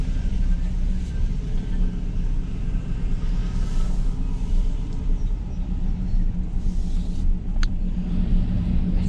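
A Chevrolet Silverado pickup with a swapped-in V8 drives along with a steady, loud low engine rumble and road noise throughout, a brief sharp click near the end.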